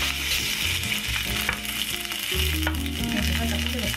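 Corn and condensed milk pancake sizzling close by in hot frying oil, a steady crackling hiss that runs throughout over tonal background music.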